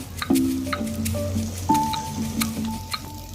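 Onions dropped into a pan with ginger and garlic for a Tamil tuna fish roast, giving a soft squishy sizzle with small clinks and stirring sounds, fairly close, while background music plays.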